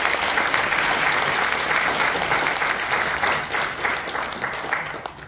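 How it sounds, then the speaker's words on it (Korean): A church congregation at a National Assembly prayer breakfast applauds in thanks for a pastor after his sermon, a dense, steady roar of clapping that fills the room and thins slightly toward the end. "배광식 목사님께 다시 한번 감사의 박수를 드리겠습니다."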